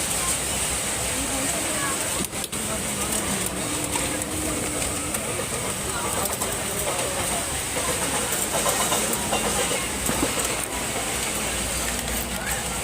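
The inside of a moving train on a journey home from Mumbai is filled with a steady, dense rumble and hiss of rail noise throughout, with voices speaking faintly within the din.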